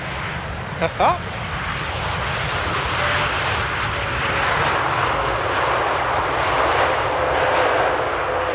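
A jet airliner landing at Amsterdam Airport at sunset, its engines roaring into reverse thrust as a broad, sustained rumble that swells and holds steady after a brief touchdown thump, with a voice talking over it.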